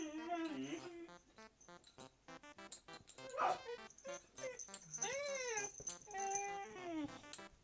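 A dog whines and whimpers in a series of high, wavering, pitch-bending cries, some rising and falling in long slides, fairly close but quiet, with brief gaps between outbursts.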